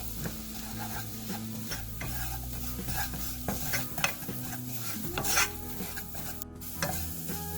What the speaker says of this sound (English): After sauteing the garlic, reduce the flame to medium-low and add in the all-purpose or maida.